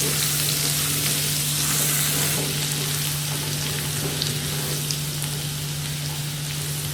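Garlic and ginger sautéing in a hot pan for dal fry, a continuous close, loud sizzle with fine crackles and occasional small pops, no talking over it.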